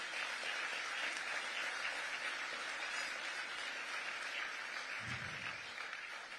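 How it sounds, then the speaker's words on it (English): Audience applause at an awards gala in New York, sustained clapping from a large crowd that continues at an even level throughout. "And please applaud them."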